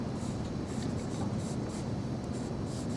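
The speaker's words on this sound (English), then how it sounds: "Pencil doesn't leave the hand or the paper." A pencil drawing a continuous contour line on paper makes a steady, close scratchy rubbing that continues unbroken with slight swells in texture.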